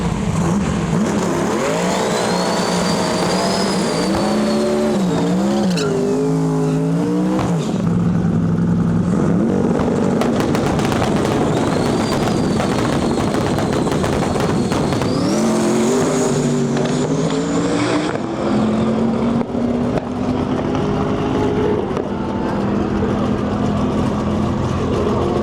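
Stick-shift drag race car on a qualifying pass, engine screaming loud through rising revs with audible gear changes as pitch drops and climbs again, then fading.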